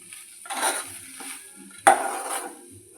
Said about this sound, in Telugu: ఇట్లా కలుపుతూనే ఉండాలి